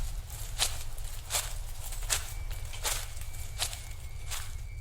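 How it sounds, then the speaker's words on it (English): Footsteps through woods, about six evenly spaced crunching steps at a slow walking pace over a low steady rumble, moderately close with no talking. "As I'm walking, I hear footsteps behind me"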